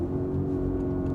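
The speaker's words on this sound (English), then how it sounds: "this has a sports exhaust on it and I think it sounds great." Audi RSQ8 SUV with a sports exhaust, a steady low engine rumble and drone close by through a short stretch, even and continuous with no talk.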